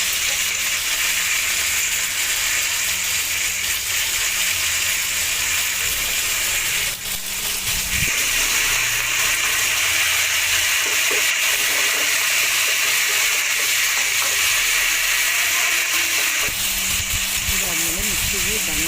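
Tomatoes frying in a pan for chicken curry give a steady, close sizzle that runs the whole time, with a brief dip midway and faint stirring clatter near the end.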